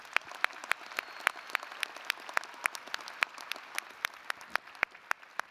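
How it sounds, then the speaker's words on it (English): Sparse, distinct claps ring out at a university winter commencement, a thin round of applause for graduating doctoral, law and medical degree candidates, each clap sharp and separate in a large, quiet hall. "Let's give them another round of applause"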